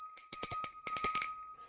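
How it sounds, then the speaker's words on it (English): A bell rings in a quick series of about ten bright metallic strikes, each one clear and close, that fade after a second and a half. "by ringing that bell. The bell has been rung."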